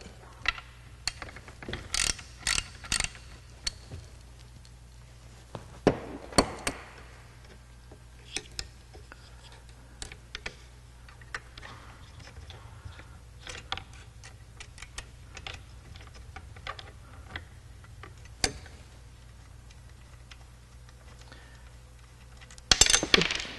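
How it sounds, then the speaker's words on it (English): Ratchet with a 5/32 Allen socket backing out valve cover screws on a Jiffy PRO4 Lite ice auger engine, giving bursts of quick close clicking separated by pauses, with a final flurry of clicks at the end over low workshop hum. "we're going to go ahead and remove the valve cover, again using a 5/32 Allen head"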